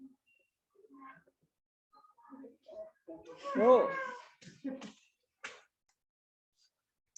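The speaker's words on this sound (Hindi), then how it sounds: "देख बागड़ बिल्ला, ऐसे ना करिए।" A cat lets out a drawn-out, wavering meow in the middle of a quiet stretch, close and clear, with a few softer sounds and brief speech around it.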